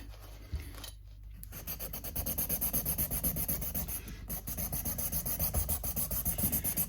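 A part of an Alvarez acoustic guitar is sanded down during a setup. Close, rhythmic rasping strokes repeat steadily after a brief pause near the start.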